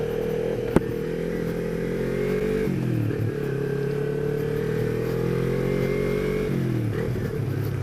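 A Kawasaki Z250 / Ninja 250 Fi custom motorcycle engine revs loud and close, holding a steady high drone that dips briefly twice before climbing again, after a single sharp click near the start.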